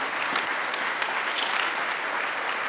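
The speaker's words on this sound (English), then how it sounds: "Let's give Brian a round of applause" Audience at a 1 Million Cups Kansas City startup pitch event applauds a presenter, a dense, even round of clapping from a room full of people, steady throughout with no talk.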